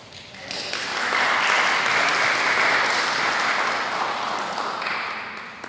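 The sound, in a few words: audience applause at meeting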